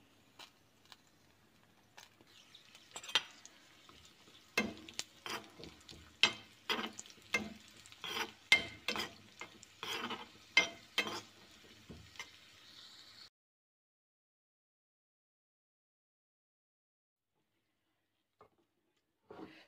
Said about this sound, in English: I'm going to add some ghee, and I'm going to fry the cashew nuts and the raisins for this kesari.